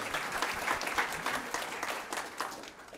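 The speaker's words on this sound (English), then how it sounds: "you can clap if you want" An audience at a storytelling event claps steadily for several seconds, a full, even spread of many hands that tapers slightly toward the end.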